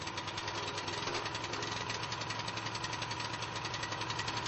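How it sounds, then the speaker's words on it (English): A pull-start engine on a concrete floor scarifier runs at full throttle, a loud, steady, rattling drone with rapid even pulsing throughout and no voices. "When the engine starts, open the throttle and allow the engine to reach full speed."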